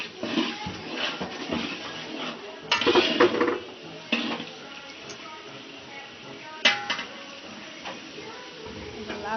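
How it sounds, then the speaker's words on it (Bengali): Biryani masala is stirred and fried in a pot, with a clatter of metal spoon scrapes and knocks against the vessel in irregular bursts over a soft background sizzle. A few quieter gaps fall between the louder stirring strokes. "এটাকে এখন আমরা ভালো করে কষিয়ে নিব একটু।"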